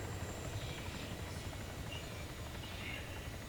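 A helicopter in the video game Arma 3 gives a steady, continuous rotor-and-engine drone that stays level and fairly loud throughout, with no speech over it.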